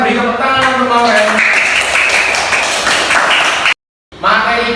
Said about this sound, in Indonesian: kita beri tepuk tangan untuk Mauren.